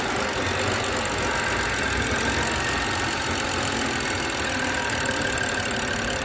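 A BMW X6 engine, recently repaired after sludge oil deposits caused a no-start, runs at a steady close-up idle, a constant dense mechanical drone with no pauses.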